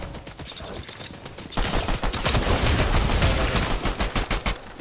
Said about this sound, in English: Oh, someone's shooting.